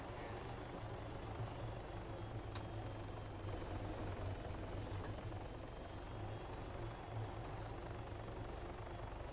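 Helicopter in the video game Arma 3, a steady droning rotor and engine roar that holds constant and fairly loud throughout, with no voices.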